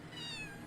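A single short cat meow, a kitty crying inside World of Warcraft during a Motherlode dungeon run, rising and falling clearly over quiet game background with no talk.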